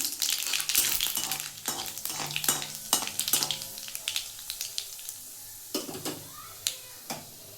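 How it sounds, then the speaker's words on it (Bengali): Two dry red chillies and a pinch of black cumin fry in hot mustard oil, popping and crackling in bursts that thin out to scattered sharp sizzles and pops, close and fairly quiet. "এ তেলের মধ্যে দুটো শুকনো লঙ্কা ফোড়ন দিলাম শুকনো লঙ্কাটা একটু ভালো করে ভেজে নেব"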